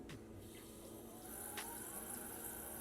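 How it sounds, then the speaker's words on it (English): Water trickles from a quarter-cup measure into a thick homemade vegan dressing in a kitchen, a soft steady pour heard close and alone. "So let's add some water now."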